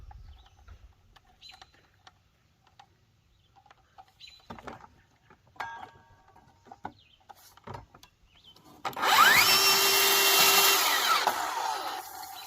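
A power drill whirs steadily for several seconds near the end while tightening a saw blade at a roadside stand, preceded by quieter handling clicks and tapping; loud and close.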